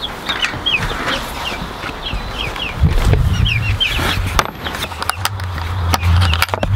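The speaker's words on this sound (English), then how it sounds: "this hen's gotta protect these barred rock chicks anyways" A barred rock hen clucks near her chicks, which peep in high, repeated chirps, with some rustling and handling noise nearby outdoors.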